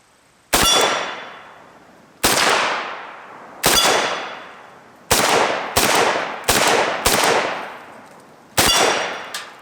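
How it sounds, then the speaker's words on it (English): An AK rifle chambered in 7.62x39 fires shots that ring a steel gong, eight loud sharp cracks each followed by a long metallic ringing decay, irregularly spaced with two quick pairs in the middle, no voices. ".762x39 almost knocks my steel gong over every time I shoot it"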